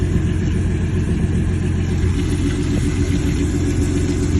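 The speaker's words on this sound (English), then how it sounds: "But it's still idling fairly smooth at that air fuel." Engine of a sedan swapped with a Honda K24, idling on E85, runs as a steady, continuous low rumble that is close and even, with no other sounds over it.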